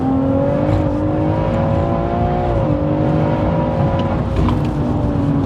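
A 730bhp big-turbo BMW M140i pulls hard under boost, a loud, sustained engine drone with rising whine from inside the car, briefly dipping before climbing again.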